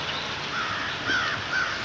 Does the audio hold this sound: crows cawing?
yes